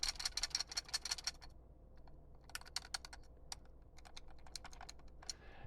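Plastic X-Gunner light gun controller rattling loose inside and clicking, a quiet run of rapid sharp clicks in bursts with short pauses, close up and alone.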